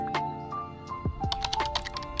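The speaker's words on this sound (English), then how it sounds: "so we're gonna type aesthetic thumbnail" Keys clatter quietly on a computer keyboard in a short series of light, irregular taps, close and faint against a faint background hum.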